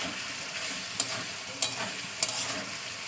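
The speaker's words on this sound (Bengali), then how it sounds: "এবার আমি এতে সমস্ত আলু কুমড়ো সব দিয়ে কষিয়ে নেবো" Potatoes and pumpkin stir-fried in a spiced meat curry sizzle steadily in hot oil, with a few sharp scrapes of a spoon against the pan at regular intervals, close up and with no talking.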